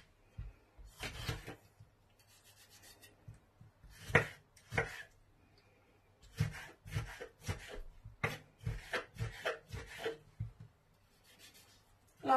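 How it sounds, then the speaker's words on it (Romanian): Peeled tomatoes are finely chopped with a knife on a board, giving quiet bursts of quick rhythmic taps separated by short pauses, close and alone. "se cojesc roșiile de pieliță și se tocă mărunt."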